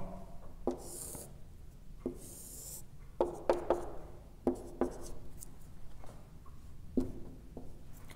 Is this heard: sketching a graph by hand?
yes